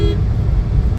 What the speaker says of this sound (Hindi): वीडियो को शुरू में ही इस गाड़ी का हॉर्न सुन लेते हैं।